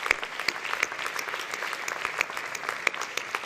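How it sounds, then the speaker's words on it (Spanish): Audience applause fills a hall at the 27th Aragonese music awards ceremony in Monzón: a steady wash of many hands clapping together, moderately loud and even throughout, with no voices on top. "Un aplauso para todos ellos."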